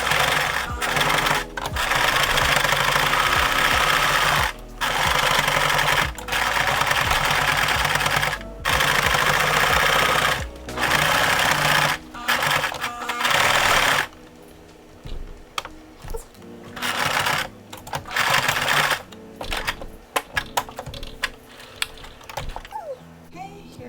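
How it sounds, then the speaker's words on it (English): A sewing machine stitching a fabric face mask runs in loud, rapid bursts of mechanical whirring, starting and stopping repeatedly, with quieter gaps and lighter handling sounds in the final stretch. "you're going to sew down this line right here to keep it all nice and tucked in"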